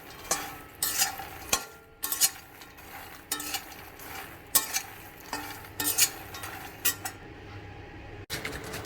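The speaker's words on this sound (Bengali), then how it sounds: "এবার আমি এটাকে নাড়িয়ে দেবো, ভালো করে" A spoon stirs onion masala makhana around a hot pan in a run of scraping, clattering strokes, with a light sizzle underneath and irregular metallic knocks close by.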